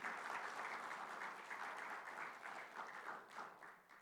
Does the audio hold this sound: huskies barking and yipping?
no